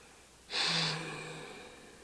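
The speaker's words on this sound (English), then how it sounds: "I can't insult them by not sniffing them." A single sharp, close inhale through the nose, a quick sniff of perfume that trails off into quiet.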